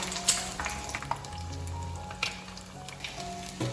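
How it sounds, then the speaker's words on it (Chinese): Eggs deep-frying in hot oil in a wide wok, a steady soft sizzle with small pops and crackles, close and fairly quiet. "炸鸡蛋我们一定要用宽口的锅，不能够用窄口的锅。"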